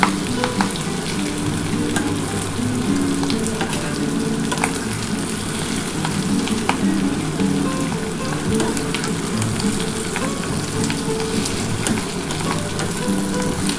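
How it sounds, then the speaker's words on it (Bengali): Fish swim bladders fry in oil alongside potatoes, bitter gourd and pointed gourd, making a loud continuous sizzle dotted with sharp popping crackles that keep bursting at irregular intervals throughout, with no talking. "পটকাগুলো এখনও ফাটছে বন্ধুরা"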